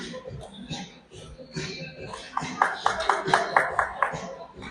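Hands clap in a steady rhythm along to a song at a youth under-13 hockey game, a string of crisp claps rising in the second half under voices and crowd noise.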